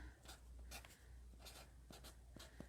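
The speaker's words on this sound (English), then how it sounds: "I'm just going to take a Sharpie and address the letter." A Sharpie marker writes an address on a letter-style gift package with quick, soft, scratchy strokes in short bursts, close and quiet, with no one talking.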